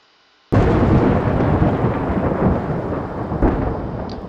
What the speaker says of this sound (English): that's because there's a thunderstorm in my area currently.